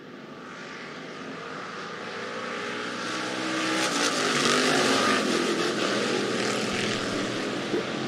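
Hobby stock race cars roar off on the green flag at Rapid Speedway, a dirt oval in Iowa. The dense engine noise of the pack swells louder partway through and then holds steady, with no talk.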